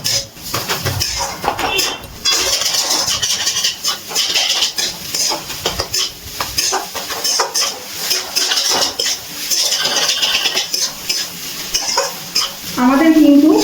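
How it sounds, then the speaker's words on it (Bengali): A spoon scrapes and clinks in a pan of banana flower curry with small shrimp, ghee and garam masala, making repeated close stirring strokes over a light sizzle. "এবার সব কিছু খুব ভালো করে মিশিয়ে নিচ্ছি।"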